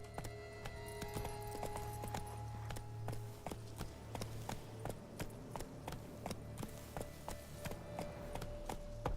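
Roach the horse in The Witcher 3 clip-clops at a slow walk, a steady run of crisp hoof strikes over a low rumbling game ambience and a held musical drone.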